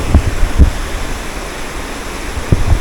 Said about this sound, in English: there's water coming from everywhere